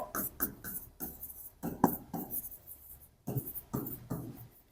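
A pen or marker writes out a math solution in short scratchy strokes, rhythmic bursts separated by brief pauses, close and fairly quiet.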